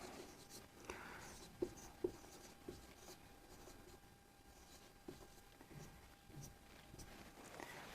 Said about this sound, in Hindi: जैसे मैं एक संख्या लिखता हूँ